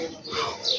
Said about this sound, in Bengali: পাখি কত সুন্দর করে ডাকতেছে